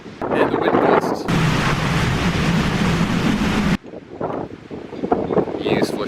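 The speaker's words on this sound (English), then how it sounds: "And the wind gust." A gale-force wind gust blowing straight into the microphone at an amusement park, a loud roaring rumble that swells and holds for a few seconds and then cuts off, surrounded by quieter wind buffeting.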